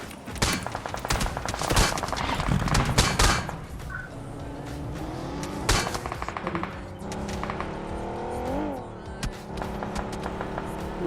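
Rapid bursts of AKM automatic fire in the BGMI battle royale game crackle repeatedly, mixed with a vehicle's engine drone, while a player talks over the gameplay.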